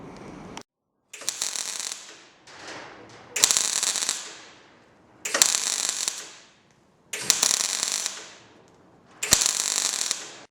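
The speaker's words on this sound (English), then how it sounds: "I'd never claim to be an expert at MIG welding, but that looks pretty good to me." MIG welding on a Suzuki SJ410 chassis, heard as close, harsh crackling buzz in repeated bursts of one to two seconds separated by short silences, with a few sharp clicks between runs.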